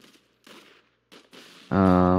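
Gunfire in the video game Arsenal: a sustained, loud burst of rapid shots lasting about half a second at the end, after a few quieter scattered sounds.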